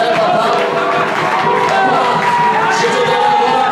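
A church congregation cheering in acclamation during worship, a dense, loud crowd roar of overlapping shouts and whoops held steadily throughout, with voices blending together.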